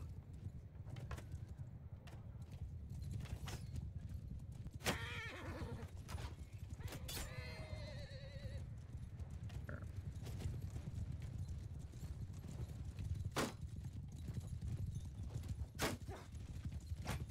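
Horse hooves clip-clopping in a battle video game, steady rhythmic hoofbeats with a couple of neighs and whinnies over a low rumble and scattered clicks.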